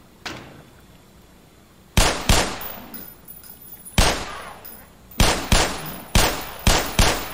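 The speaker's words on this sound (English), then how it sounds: "I'm going to use my pistol." Pistol fire in the Black Mesa video game comes as a string of loud, sharp single shots, each snapping hard and then ringing off, spaced about a second apart after a quiet start.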